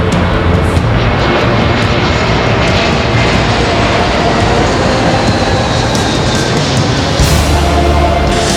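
Airplane jet engine heard from inside the aircraft: a loud, steady roar with a low drone underneath, continuous throughout, with no speech.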